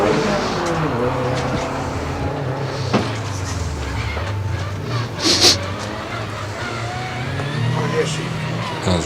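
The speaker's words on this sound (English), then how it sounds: "the Adam Zemkus WRX making its way around the hairpin towards the finish line now" A Subaru WRX rally car drives around a hairpin at the Legend of the Lakes hillclimb in Australia, its engine droning steadily in the distance with revs rising toward the finish, under continuous commentary.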